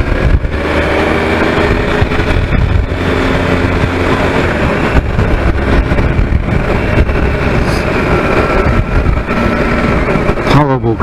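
A 2018 Triumph Tiger 1200 motorcycle rides along a road heading out of town, its engine drone blended with steady, loud wind rush that stays constant throughout.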